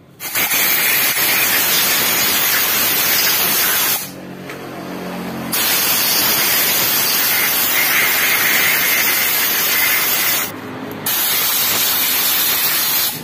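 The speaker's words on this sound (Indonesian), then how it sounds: "tinggal kita semprot aja menggunakan kompresor" Loud, close blasts of compressed air from an air compressor hiss in long continuous bursts while cleaning brake parts, broken by two short pauses, one before the spraying resumes and another later.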